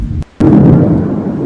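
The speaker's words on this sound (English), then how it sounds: "It's a very powerful missile." A powerful missile blast in Israel, heard from about two miles away as a deep, heavy boom that cuts in after a brief silence and rumbles on loudly.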